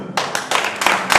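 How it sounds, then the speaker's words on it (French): An audience at a spelling competition awards ceremony claps in short, dense bursts, loud and close, with no talking. "On l'applaudit très fort."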